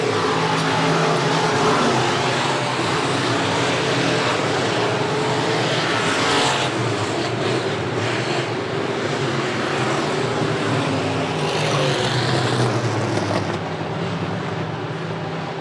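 SportMod race cars roar around Buena Vista Raceway, a loud, continuous engine drone with cars sweeping past and the pitch shifting as they pass.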